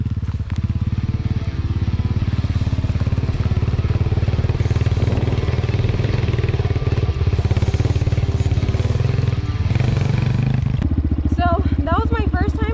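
An Apollo 250cc dirt bike engine drones loudly and continuously as the rider crosses small bumps, with brief rattles and a revving change near the end.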